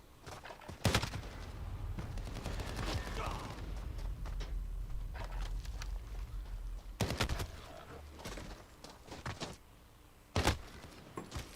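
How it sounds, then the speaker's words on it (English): Video game gunfire from a gun with heavy kick, a few sharp loud bursts and scattered shots separated by quieter stretches of game sound, with someone talking in between. "This gun's got a lot of kick, too."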